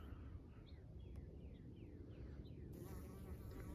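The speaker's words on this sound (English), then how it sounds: "But I still got some bees that are happy as can be." Garden bees buzzing faintly in a quiet outdoor setting, a soft insect hum with a few passing buzzes over low background noise, no voices.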